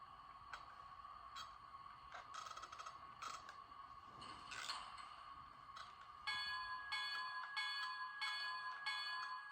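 A small electronic bell from a DCC sound decoder in a brass model NYC J1e Hudson locomotive rings repeatedly in a steady rhythm, thin and metallic, quiet and alone.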